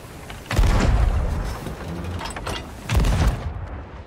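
Ship cannons in the ScuttleBuds game fire two heavy booming shots a couple of seconds apart, each a deep, loud blast with a rumbling tail.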